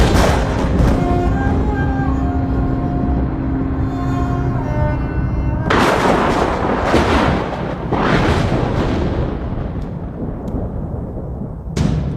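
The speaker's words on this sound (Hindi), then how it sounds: "मार दी सारी गोलियां उसकी छाती में" After a sustained tone, a rapid series of loud, booming gunshots erupts, several blasts overlapping and echoing before trailing off.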